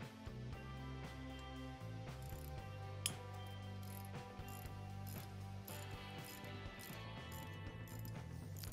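A ratchet wrench loosening small bolts on the top end of a Harley-Davidson Sportster 883 engine during a 1200cc big-bore kit install, with rapid close pawl clicking in quick bursts and no talk.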